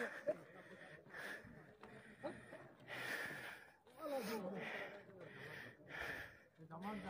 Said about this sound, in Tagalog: Hingal ako ah.